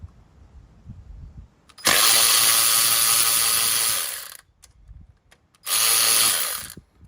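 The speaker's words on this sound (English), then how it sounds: "we're gonna see if the snap-on ratchet can break this 12mm bolt loose." A Snap-on electric ratchet strains to break a 12mm bolt loose: a loud, steady motor whir runs for about two seconds, stops, then a second shorter burst follows, close up with no talking.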